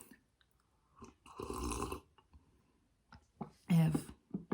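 Close, quiet chewing of melted cheese on bread late at night, with several bursts of wet, crunchy bites and mastication separated by pauses, soft breaths and small mouth noises.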